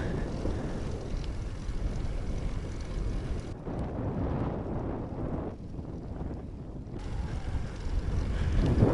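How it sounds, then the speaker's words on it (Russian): Strong wind in the mountains of Mongolia roars and buffets the microphone in a continuous low rumble, easing briefly before gusting again, with no voices. "ветер дует в лицо"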